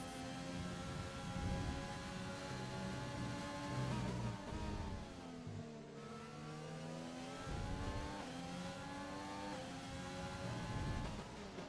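Race cars in a racing video game trailing a safety car, engines droning steadily with rising and falling revs and overlapping engine pitches, a continuous close pack sound without talk.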